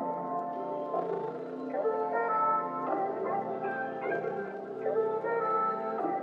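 A vintage-style R&B beat where several melodic layers play together in a sustained, warm blend of keys and tones, steady and fairly even in level throughout with no voice.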